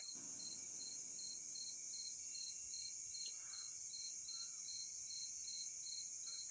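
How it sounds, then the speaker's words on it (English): Crickets chirping in a steady, high, pulsing trill that runs unbroken, fairly faint and alone, with only slight low background noise. "Tammy hears my crickets"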